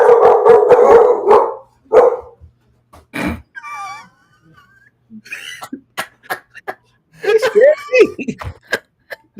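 A dog barks and lets out a short howl in brief close bursts, with loud voices talking over the first seconds and more barks near the end.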